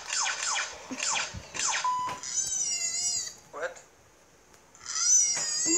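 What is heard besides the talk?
cat meowing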